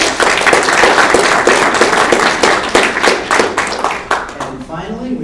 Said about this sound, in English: Let's have one more round of applause for our middle students.